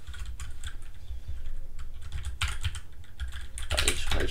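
Rapid clattering keystrokes on a computer keyboard, irregular bursts of clicks growing busier and louder toward the end, close up with no voices.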